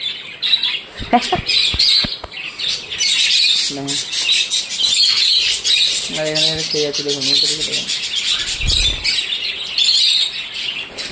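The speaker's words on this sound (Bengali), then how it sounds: "এই বদ্রি পাখিটা খুব সুন্দর দেখেছেন" Budgerigars kept alongside lovebirds chirp and twitter continuously close by, with a few squawky calls, under a person talking.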